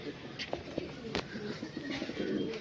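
A newly brought pair of domestic pigeons coos softly and low, with a few murmuring coos rising over steady background noise and small clicks.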